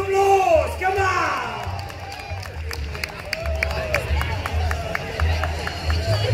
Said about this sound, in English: round of applause, come on!